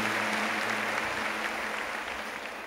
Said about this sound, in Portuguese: Uma salva de palmas ainda mais calorosa para essa minha querida.